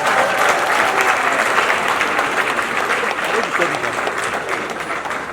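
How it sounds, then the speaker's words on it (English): Loud, dense crowd applause at a Felabration 2019 event, continuous clapping with some cheering voices mixed in, easing slightly toward the end. "You guys should clap for yourselves."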